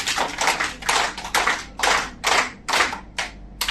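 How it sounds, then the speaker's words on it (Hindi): Teachers at a hotel training session clap in unison, a series of loud, crisp group claps in a rhythmic pattern with short gaps between bursts. "अपने लिए तालियां बजाओ"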